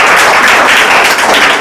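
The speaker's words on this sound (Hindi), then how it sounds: "ताली बजाइए।" Audience clapping on request at a Saturday test prize event for schoolgirls, a dense continuous patter of many hands, loud and steady throughout.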